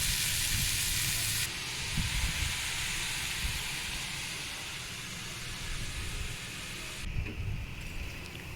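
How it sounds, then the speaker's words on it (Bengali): Ash gourd and potato sauté uncovered in a pan with a continuous hissing sizzle, steamy and even, broken by light stirring scrapes, with no talk. "এখন আমি ঢাকা দেব না, দম তুলে ভালোভাবে এটা কষিয়ে নেব"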